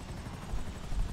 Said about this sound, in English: I think I just messed up my helicopter.